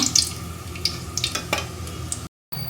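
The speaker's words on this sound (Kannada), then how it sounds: "ಬೇವಿನೆಲೆನ ಈ ಥರ ಸ್ವಲ್ಪ ಫ್ರೈ ಮಾಡ್ಕೊಳ್ಳೋಣ" Neem leaves fry in a pan with a soft steady sizzle, stirred with a few light scrapes and clinks, close and alone before a brief cut to silence.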